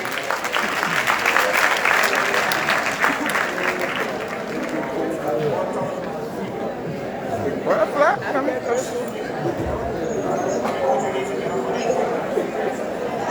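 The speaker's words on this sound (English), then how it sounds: "Please put your hands together for them quickly." Applause and crowd chatter at an International Women's Day 2021 celebration as musical performers come up, a burst of clapping early that fades into murmuring voices and movement.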